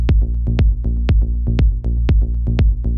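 Melodic techno reference track plays loud and steady with a deep, booming four-on-the-floor kick thumping about twice per second under sustained low synth bass and tones.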